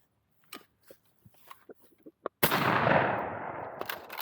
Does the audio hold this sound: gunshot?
yes